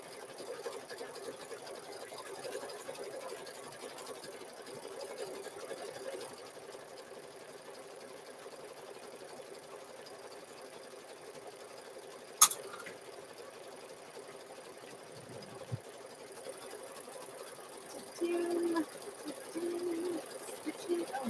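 An embroidery machine stitches a zipper bag held in the hoop, giving a steady, fairly quiet mechanical hum throughout with a sharp click near the middle and some brief louder rattles toward the end.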